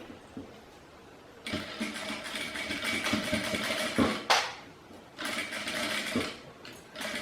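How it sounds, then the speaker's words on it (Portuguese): A sewing machine runs in bursts stitching a leather wallet pocket near the top edge, close and fairly loud, with a brief pause and a sharp mechanical clack midway, no talking. "vou colocar aqui uma costurinha de segurança primeiro aqui na parte superior dele"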